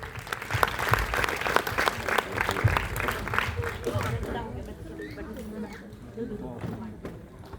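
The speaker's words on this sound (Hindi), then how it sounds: "स्वागत कीजिए तालियों से" Audience applause welcomes a woman poet reciting her own Hindi poem about retirement, a dense steady burst of clapping that tapers toward the end with some crowd murmur mixed in.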